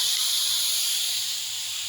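Ash gourd goes into a hot pan of oil and sizzles, a loud, steady hiss close at hand that eases slightly toward the end, with no talking.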